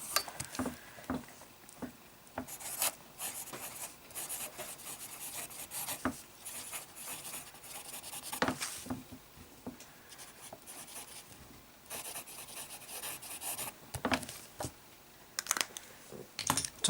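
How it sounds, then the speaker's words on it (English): A broad fountain pen nib lays down very wet strokes of J Herbin Bleu Océan ink on paper, giving soft, close scratchy rubbing in irregular bursts with brief pauses between words. "Followed by some really wet, broad writing."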